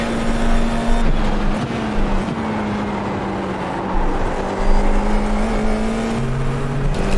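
A Formula 4 iR-04 race car engine drones steadily at Oulton Park in iRacing, a sustained held note with slight pitch shifts and a second engine tone joining near the end, loud and alone.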